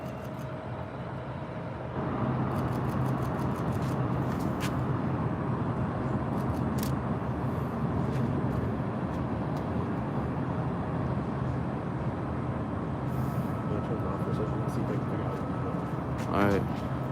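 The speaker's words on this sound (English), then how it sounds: "I hear an American 777-200ER lifting off." An American Airlines Boeing 777-200ER making a heavy takeoff from LAX, its broad steady jet roar swelling in after a quiet start and holding, with a person talking over it.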